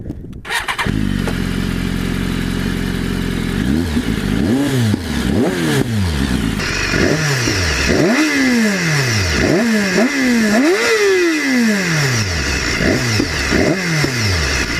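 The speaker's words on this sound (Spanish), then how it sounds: "vamos a escuchar esta belleza de motor" A BMW S1000RR sport motorcycle engine fires up and is blipped through a rapid series of loud, sharp revs that rise and fall again and again. It is close, with no talking.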